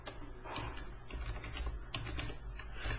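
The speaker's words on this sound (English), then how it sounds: "so if I type in BlackBox here" Quiet, rapid tapping on a computer keyboard, a continuous patter of individual keystrokes at close range with no voices.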